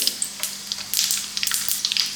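Mustard seeds and cumin crackle and pop in hot oil, quick sharp snaps scattered over a soft sizzle, close by.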